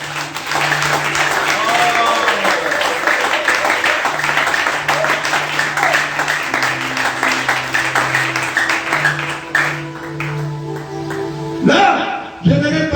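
A church congregation claps and cheers for Jesus in a sustained wave of applause, with voices and sustained tones running underneath before it tapers off.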